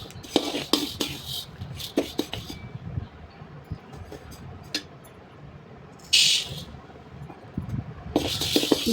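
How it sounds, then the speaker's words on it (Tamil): Urad dal roasting over a low flame in a pan while a metal spoon stirs it, with steady scraping, clinks and scattered knocks, plus bursts of sizzle partway through and at the end; close and fairly loud, no talk. "லோ ஃப்ளேமில் வச்சு நம்ம வறுத்துட்டே இருந்தால் தான் நல்லா வறுபடும்"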